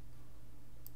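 Two quick, crisp mouse clicks near the end, close and light, over a steady low hum of room noise.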